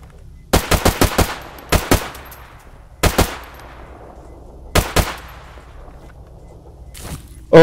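Automatic gunfire in the video game Stalker GAMMA: sharp, loud shots in short rapid bursts of two to five rounds, each burst followed by a fading echo tail, with quiet gaps between.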